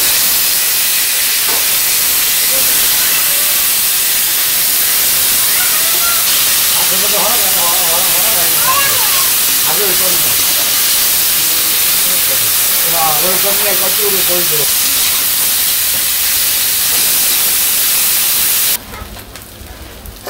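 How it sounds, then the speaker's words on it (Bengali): Fish frying in hot oil in a Bangladeshi village kitchen, a steady loud hiss and sizzle throughout with bursts of crackle, while a voice talks faintly over it before the sound cuts out near the end. "তো আমার তেল গরম হয়ে গেছে, আমি মাছগুলা দিয়ে দিই"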